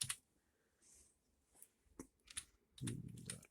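Typing on a computer keyboard to enter a short command into a Windows 10 search bar: a few scattered quiet key clicks, then a denser burst of keystrokes near the end, all faint and close.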